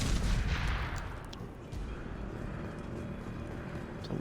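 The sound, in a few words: explosives being shot in video game Mass Effect 2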